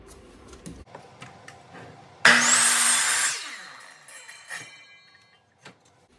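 A power saw cuts a 6-inch wooden roof piece for a squirrel feeder, a single loud burst of about a second that rises sharply and then winds down, with quiet workshop clicks before and after.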